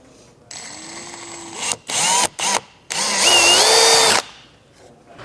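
Close, loud power drill enlarging the center of a hole: a steady low whine, then quick on-off bursts, then a longer rising whir as it bites through, with no speech.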